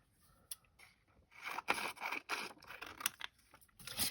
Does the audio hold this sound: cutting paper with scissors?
yes